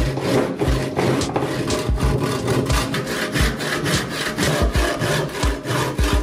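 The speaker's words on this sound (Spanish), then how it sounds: "esa madera lo voy a recortar por ahí" Wood being hand-sawn for a rustic floating table, a steady rapid back-and-forth rasp of the blade that runs continuously and loudly up close, with no talking.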